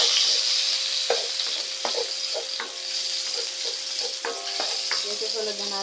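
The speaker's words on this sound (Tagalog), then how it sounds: "Sautay ko na natin yung bawang." Garlic sautéing in a pan for seafood pasta gives a steady, close sizzle, with scattered clicks and scrapes from stirring throughout and no voices.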